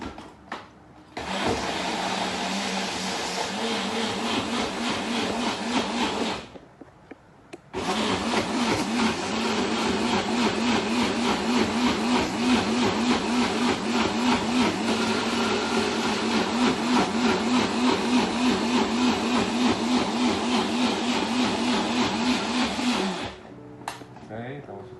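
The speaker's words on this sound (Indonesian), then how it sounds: "kita blender lagi." Electric blender whirs loudly, blending batter of Spanish mackerel fish and water, running steadily for several seconds, pausing briefly, then running again for about fifteen seconds before stopping.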